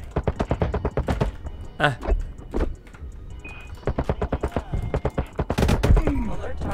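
Rapid automatic gunfire in the video game Boundary crackles in dense bursts at close range, with short pauses between volleys and a brief grunting voice in the middle.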